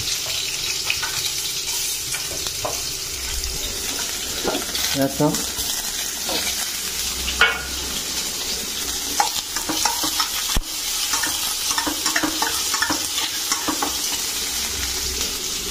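Pumpkin cooking in a hot kadai, a steady sizzle filling the scene while a spoon stirs and scrapes through it in irregular strokes, with a few sharper clinks of metal near the close.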